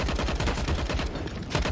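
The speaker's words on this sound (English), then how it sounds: "DGT spreading the armor-piercing rounds of the AUG." AUG rifle gunfire during a Counter-Strike match on the Anubis map, a loud unbroken stream of rapid automatic shots with a dense, sharp crackle.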